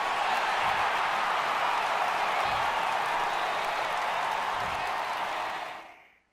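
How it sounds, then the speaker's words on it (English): A home ballpark crowd in MLB The Show 18 applauds a departing pitcher, a dense, steady roar of clapping and cheering that holds evenly, then fades away at the end. "this home crowd likely to give him a standing O as he departs with the shutout in check"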